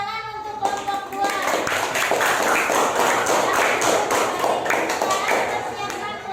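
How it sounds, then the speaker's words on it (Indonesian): A classroom group claps steadily for a presenting student team, a dense patter of many hands lasting several seconds before tapering off, with voices mixed in. "Tepuk tangan untuk kelompok 2."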